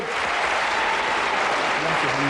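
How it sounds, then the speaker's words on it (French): Studio audience on a French game show applauds loudly and steadily throughout, a dense continuous wash of clapping with a few voices briefly audible near the end. "On peut quand même applaudir très fort Stéphanie, c'était 7."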